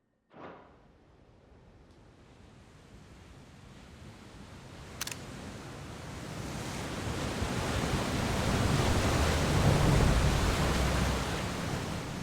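Ocean waves wash through the water in the video game Final Fantasy 16, a broad, steady roar of surf that swells gradually louder and fuller, with a brief click near the middle.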